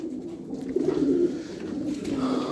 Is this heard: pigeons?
yes